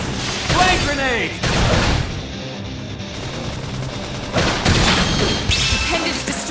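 A flame grenade explodes during a busy battle in Xenoblade Chronicles X, with booming blasts and crashing impacts layered over combat effects and music while voices call out.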